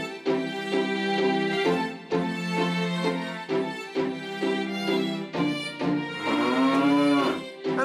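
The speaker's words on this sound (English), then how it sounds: "And the carrot mooed like a cow." A cartoon carrot in a children's band scene moos like a cow, several long, drawn-out lowing calls in a steady rhythm, close and loud with no talking.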